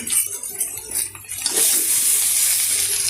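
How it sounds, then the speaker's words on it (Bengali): Pieces of green jackfruit dropped into hot mustard oil in a pan, with clinks and stirring at first, then a loud steady sizzle rising and holding close by. "এবারে হিচড়গুলোকে আমি একটু ভেজে নিচ্ছি"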